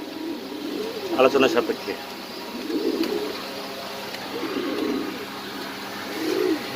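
Fancy pigeons in a loft give soft, low cooing calls in several separate bursts, fairly close, while someone talks briefly in the middle.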